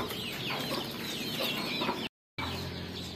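A hen that has just laid an egg clucks repeatedly in short, throaty bursts, fairly close, with a brief silent gap near the end before the clucking resumes.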